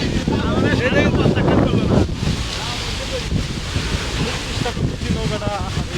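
Strong wind buffets the microphone and waves wash around a rocking boat, a loud continuous roar with voices talking over it.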